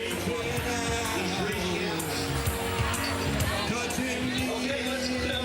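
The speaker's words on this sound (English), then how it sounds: "Get ready to hear the crowd." Dense crowd noise at the Texas Cavaliers River Parade, with steady babble, shouts and scattered cheers from many spectators, loud and continuous, mixed with voices close by.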